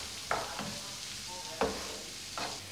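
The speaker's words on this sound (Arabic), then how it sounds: "ونخليو هاد البصله هذه تتشحر لينا مزيان هي والفلفله وترجع ذهبيه" Onion and pepper fry in a pan, a soft steady sizzle broken by a few sharp scraping stirs spaced across the moment, close and fairly quiet with no voices.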